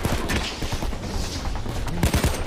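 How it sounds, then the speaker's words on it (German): Close, dense gunfire from Payday 2 cracks in rapid, irregular bursts throughout, with heavier volleys at the start and near the end over a constant noisy backdrop. "Da kommen die Schüsse her."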